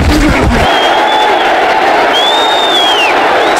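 Loud crowd roar and cheering from a stadium in an American football video game, a dense sustained wash of noise with a few whoops rising above it, no commentary over it.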